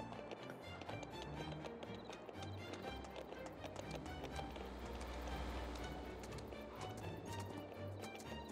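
Rhythmic clip-clop of horse hooves running steadily in Landwirtschafts-Simulator 22 over a dense, continuous game soundtrack with music, loud and unbroken throughout.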